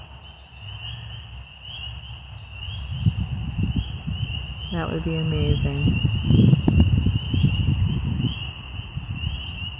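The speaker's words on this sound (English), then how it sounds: "I'm gonna sleep out here listening to all these frogs." Spring peeper frogs call at night in a steady, high-pitched chorus that runs through the whole stretch, with a person talking briefly over it nearby.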